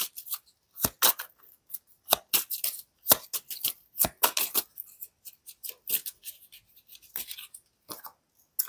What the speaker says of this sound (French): je vous prends votre dernière carte pour finir et conclure votre tirage.